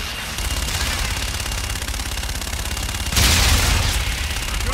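A Call of Duty Infinite Warfare air gun run sounds as a sustained, rapid mechanical stream of cannon fire. It thickens into a louder, harsher burst of impacts near the end.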